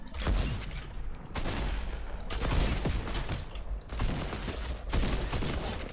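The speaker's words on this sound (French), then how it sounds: "Vous avez vu, c'est des bombes collantes. Et du coup, ça explose en fait." Explosive sniper rifle in Fortnite firing sticky bombs that then detonate, producing repeated bursts of booming blasts and crackling explosions in several loud clusters separated by brief lulls.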